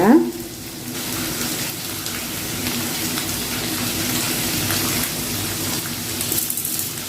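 Onion and garlic sauté in a pan for an okra tamarind curry, giving a steady, even sizzle throughout with a louder clatter at the start and a faint murmur beneath.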